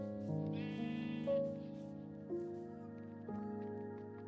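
Several bleats from sheep in Minecraft, heard as a series of short, nasal, wavering calls repeated about every second, fairly close, with no talking over them.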